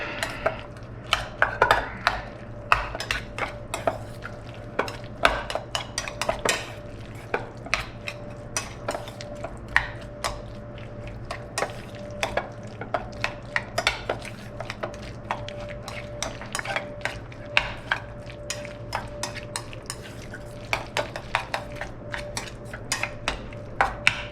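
Tuna salad with capers being mixed in a bowl with a utensil, a steady run of close clinks, scrapes and taps repeating over about twenty seconds, no talking.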